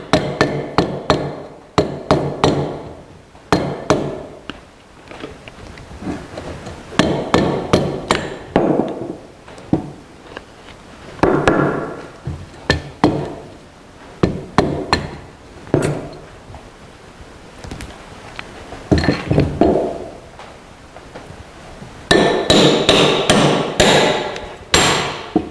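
A hammer tapping final drive components and gears into alignment, sharp ringing metallic strikes in irregular bursts and single hits with short pauses between, close and loud with no talking.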